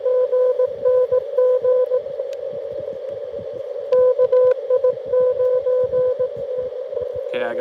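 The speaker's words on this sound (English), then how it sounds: "We're doing Morse code out here." Morse code beeps sound as a steady, clear amateur radio sidetone during an outdoor Parks on the Air session at Fort Deseret, Utah, in short rhythmic bursts with pauses and faint talk and rustling underneath.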